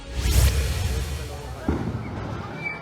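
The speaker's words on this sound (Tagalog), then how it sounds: "Sumiklab ang sunog sa tindahan ng LPG kung saan nagkaroon pa ng mga pagsabog." Loud booms from an LPG shop fire in a residential area of North Caloocan, with a heavy blast near the start and another thud later, over rumbling fire and background voices.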